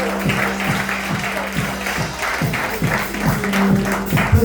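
Church congregation clapping in a steady rhythmic beat, about two claps per second, under background music.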